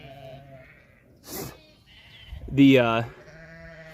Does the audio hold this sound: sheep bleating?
yes